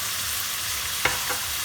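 Beef stir-frying in sesame oil gives a steady, even sizzle that fills the whole clip, with one short scrape of a utensil near the end and a fainter second one just after.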